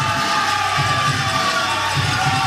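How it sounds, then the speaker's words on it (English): Crowd cheering and whooping from fans in the fan zone at a pickleball league playoff match at the Orchard in Arizona, a steady roar of many voices holding at a constant level throughout. "And the crowd goes wild here at the Orchard."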